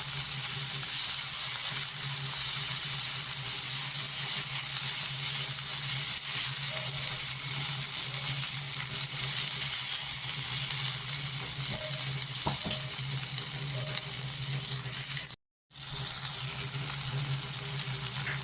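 Chopped tomatoes fry in a pan for an egg curry, giving a loud, steady sizzle and hiss that runs nearly unbroken, with only a brief dropout near the end and no talking.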